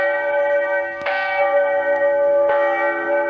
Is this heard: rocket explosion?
no